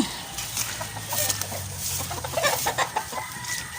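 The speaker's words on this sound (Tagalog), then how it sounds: "May mga manok pa oh." Chickens cluck and chatter close by, a steady busy flock with occasional sharper calls over a damp, muddy outdoor background during rainy weather in Samar, Philippines.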